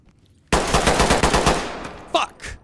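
Rapid automatic gunfire from a firefight in the tactical shooter Ready or Not, a loud burst of repeated shots lasting over a second, followed by two sharper isolated reports.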